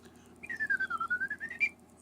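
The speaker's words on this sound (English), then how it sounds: "the bird and cat whistle" A bird and cat whistle gives one clear tone that dips and rises back over about a second and a half, close and moderately loud, heard alone.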